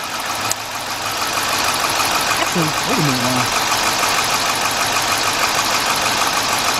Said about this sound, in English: And you see the engine got rougher.